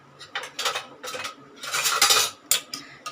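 A spoon scrapes and clinks against a metal pot while salt and turmeric are stirred into black-eyed peas for karamani sundal, in several uneven bursts of clatter with short pauses between them.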